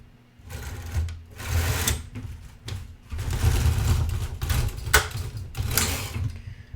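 A Singer knitting machine carriage is pushed slowly across the needle bed for the first row of a 2 x 2 industrial rib cast-on, giving a close, steady mechanical whirring and clacking in several sweeping passes.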